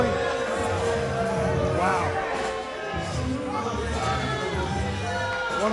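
A wrestling crowd at a Jersey Championship Wrestling match reacts with loud, continuous shouting and babble, a dense roar with children's voices mixed in and a commentator talking over it.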